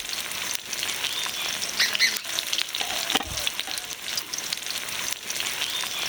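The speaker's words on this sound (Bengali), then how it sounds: "আগুনে নেড়ে চেড়ে ভেজে নেব।" Cornflour-coated okra fries in mustard oil over a low flame, giving a steady, dense sizzle with occasional stirring scrapes.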